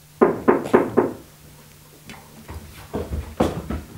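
Knocking on a door: four quick sharp raps, then after a pause a looser series of softer knocks, close and clear with no talking.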